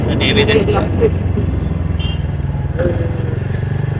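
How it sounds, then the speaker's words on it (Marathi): Traffic is jammed on a road near Murud in rural Maharashtra, with a loud, continuous rumble of motorcycle and car engines close by and occasional clatter, under people talking. "इथे पूर्ण ट्रॅफिक लावलं."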